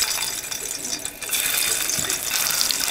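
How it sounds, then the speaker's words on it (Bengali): Turmeric-coated boiled eggs fry in hot oil with a steady broadband sizzle and crackle, close and continuous, briefly dipping before resuming. "তো ডিম দুটোকে জাস্ট নেড়ে চেড়ে সব দিকে সমানভাবে ভেজে নিতে হবে"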